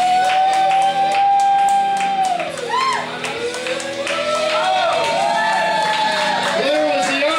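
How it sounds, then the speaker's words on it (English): Comedy show crowd cheering and whooping for a female comedian, loud shouts and applause layered over a sustained, warbling tone that bends up and down throughout. "Give her a round of applause"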